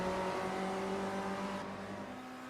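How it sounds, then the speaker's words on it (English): A race car engine drones at high, steady revs in a racing video game, a sustained tonal whine with a slight shift partway through and no talk. "Does this car sound better than it used to also?"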